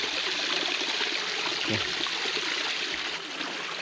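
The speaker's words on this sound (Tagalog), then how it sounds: "Nagkuha ng tubig ho, nakasuyop na." Water rushing steadily through a suction hose drawing water for gold prospecting, a constant close hiss and gurgle that fills the whole stretch, with one brief word spoken over it.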